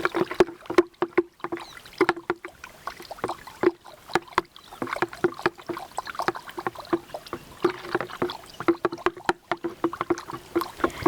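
Neem oil, water and khadi soap solution being stirred in a container: repeated rhythmic sloshing and swishing strokes, close and fairly quiet, with no voices.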